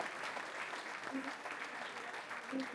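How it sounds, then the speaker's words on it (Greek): An audience at an outdoor village dance gathering in Greece applauds the performers. The clapping is quiet and far off, a steady wash without clear individual claps. "Ένα χειροκρότημα όσο πιο θερμό"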